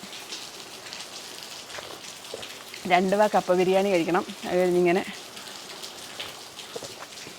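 Steady rain patters in the background throughout while someone speaks briefly in the middle.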